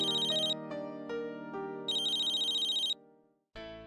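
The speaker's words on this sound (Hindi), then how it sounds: "पूर्वी का फोन इतनी रात को?" A phone ringtone rings at night, loud and near, playing a repeating electronic melody of bright sustained tones in bursts with brief gaps, cutting off and then starting again.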